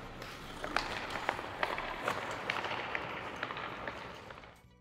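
A sparse crowd murmurs through a Virginia Tech college hockey game in an SPHL arena, with scattered claps and sharp knocks rising from a steady, distant wash of room noise.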